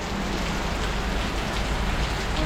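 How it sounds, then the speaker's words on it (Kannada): Heavy rain pours down in a dense, continuous hiss, loud and close, drumming steadily on surfaces with no pauses and no voices. "ಮಳೆ ಅಂದರೆ ಸಿಕ್ಕಾಪಟ್ಟೆ ಸುರಿತಾ ಇದೆ"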